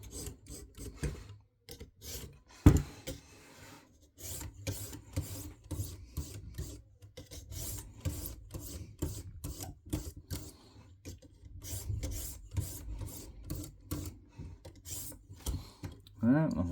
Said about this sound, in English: all I'm doing now is just doing those into the edge push strokes or deburring strokes